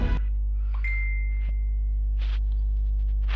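A short electronic notification chime rings out over a steady low hum, a bright sustained tone that fades after about a second, followed by a softer second chime near the end.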